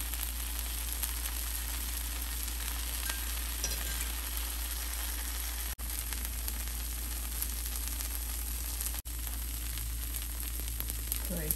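Tomato dosa frying in a hot pan, a continuous close sizzle and crackle with a steady low hum underneath, broken by two brief dropouts.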